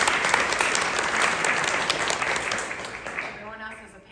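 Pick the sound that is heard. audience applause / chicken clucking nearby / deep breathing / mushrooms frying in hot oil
audience applause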